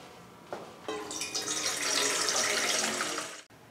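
Water pouring from a tap into a tea pan for chai in a kitchen, a short splash followed by a steady, rising stream that cuts off sharply near the end.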